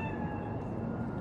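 Soft meow from a cat in the video game Cyberpunk 2077, a brief tonal call held over a steady ambient hum, faint and somewhat distant.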